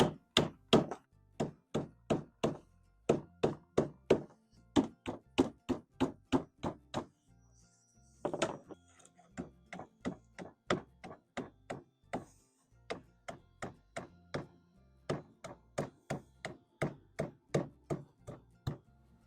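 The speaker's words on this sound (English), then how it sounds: "We're going to use the mallet and tap it in." A mallet taps a rubber seal into the pop-top roof of a 1969 Volkswagen Westfalia, a long steady series of close, sharp knocks in even rhythm with a brief pause midway.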